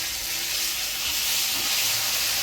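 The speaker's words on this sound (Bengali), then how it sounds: "ফোড়নে দিব কাঁচা লঙ্কা, কালো জিরা" Green chillies and nigella seeds sizzling in hot oil during Bengali village cooking, a steady close hiss and crackle that lasts throughout, with no talking.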